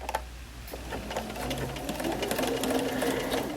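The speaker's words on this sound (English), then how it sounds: "Let's go ahead and start stitching." A sewing machine stitches a seam with an edgestitch foot, a quick steady mechanical whirring hum with rapid needle clicks, close and moderately quiet, speeding up slightly and holding continuously without talk.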